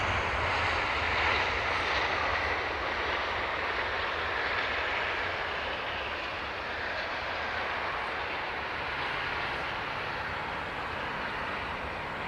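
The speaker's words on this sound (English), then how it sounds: "Ryanair from Nantes has just landed." A Ryanair airliner just landed at Dublin Airport after arriving from Nantes, giving a steady, distant broadband jet rumble that holds evenly throughout, with no voices.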